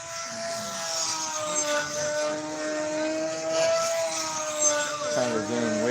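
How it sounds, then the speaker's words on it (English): A small model airplane flies overhead with a steady, high buzzing engine drone that rises and dips in pitch as it passes, fairly near and continuous with no talking. "That's not the best flying little airplane there."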